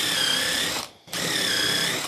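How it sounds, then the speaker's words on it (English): A power drill with a tapered bit bores a hole in wood, giving two loud, steady whirring bursts separated by a short pause, close up with no talking. "Tapered bit, 3/8 square, put it right on there, drill hole."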